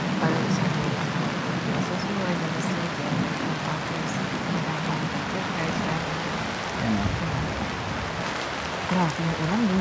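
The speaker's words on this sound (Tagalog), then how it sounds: "Grabe yung ulan, lumuhos." Dense, steady hiss of heavy rain pouring on a tent during a thunderstorm at a campsite, constant and enveloping, with people talking faintly underneath.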